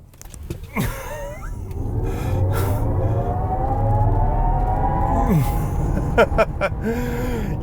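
A 2023 Genesis Electrified GV70 dual-motor electric SUV accelerating hard from 0 to 100 with boost engaged, a rising electric motor whine climbing in pitch over several seconds amid road and cabin noise, with a voice briefly at the end.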